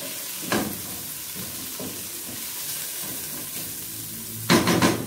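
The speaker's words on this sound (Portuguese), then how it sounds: "Vou deixar esse bacon soltar a gordura dele" Bacon, about 100 grams with the rind on, sizzles and crackles in hot fat in a pan for caldo verde, a steady close hiss with a couple of louder bursts as it is stirred.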